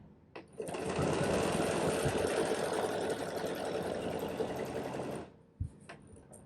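A sewing machine stitches a quilted flower motif in one close, loud, steady run of about five seconds, with a few single stitches just before and after.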